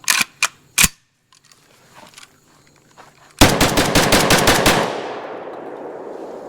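A Molot Vepr-12 AK-based shotgun fires from an 8-round magazine: a few loud, sharp shots at first, then a fast string of about eight close, heavy blasts that ring out in a long echoing tail.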